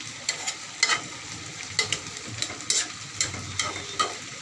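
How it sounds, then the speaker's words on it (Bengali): Eggplant, cauliflower and potatoes frying in a pan, with a constant close sizzle punctuated by a series of rhythmic scraping stirs, no voices. "আবার একটু নাড়াচাড়া দিয়ে দিলাম"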